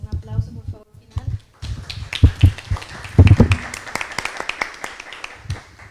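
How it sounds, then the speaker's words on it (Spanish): Conference audience at an academic panel session breaks into scattered applause, uneven claps building after a few seconds and mixing with a person talking nearby. "Un aplauso, por favor, final."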